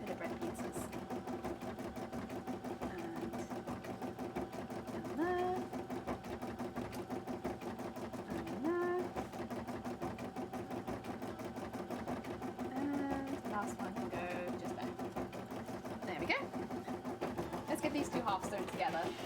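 A home sewing machine stitches cosplay parts with a steady, busy mechanical whir, joined by occasional squeaky tones and handling noises while someone speaks.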